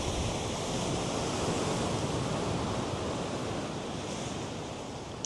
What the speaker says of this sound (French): Il y a beaucoup de vagues derrière.